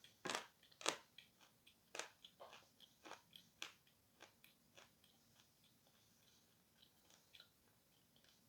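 Sawn chalk is bitten and chewed up close, giving a series of sharp crunches followed by quieter gritty chewing that fades over several seconds.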